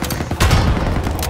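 Dense burst of MG-42 machine gun fire in a World War II shooter game, a continuous loud rattling fusillade with booming low rumble, close and unbroken for its short length.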